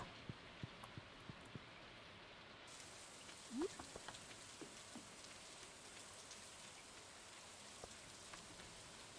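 Rain falls in the farming video game Stardew Valley, a soft steady patter with scattered droplet ticks, quiet and continuous with no voices.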